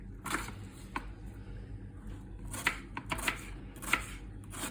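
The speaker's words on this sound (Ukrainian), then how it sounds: "нарізаємо цибульку полукільцями такими" A knife slices onion into half rings on a board to marinate chicken thighs: around eight sharp, irregular chopping taps with quiet gaps between them, close by and without speech.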